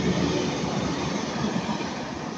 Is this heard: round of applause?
no